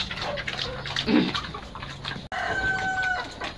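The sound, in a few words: chickens clucking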